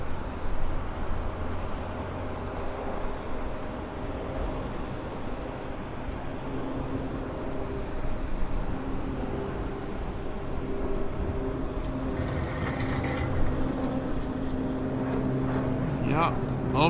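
A commuter airplane bound for Victoria, BC, takes off from Vancouver Airport, its steady engine roar building and sustaining over about seventeen seconds. Voices talk faintly in the background.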